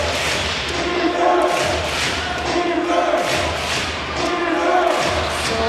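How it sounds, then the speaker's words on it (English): A basketball arena crowd cheering loudly for the Formosa Dreamers during a TPBL playoff game, a roaring wall of voices with rhythmic thumping and clapping swells, near and sustained. "the Formosa Dreamers crowd gets loud here"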